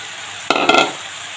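Fried vegetables drop into a pan of spinach and cauliflower, a short clattering rush of sizzle lasting under half a second over a faint background hiss, without speech.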